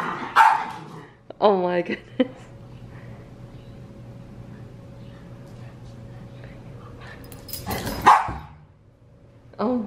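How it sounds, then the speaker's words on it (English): A puppy gives short, sharp barks and yips close by, in a few quick bursts separated by quiet stretches. Someone talks over and between the barks. "She's just a puppy, guys."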